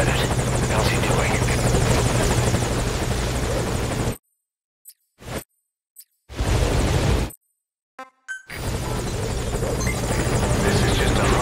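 Helicopter in Metal Gear Solid V: Ground Zeroes, a loud, close, continuous rotor roar that cuts out abruptly, leaves a few seconds of near silence broken by brief bursts, then returns at full strength.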